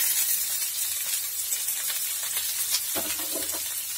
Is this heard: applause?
no